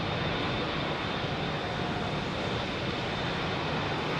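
A jet airliner roars down runway 27R at London Heathrow on departure, a loud, close, unbroken engine rumble and whoosh that holds steady throughout with no voices.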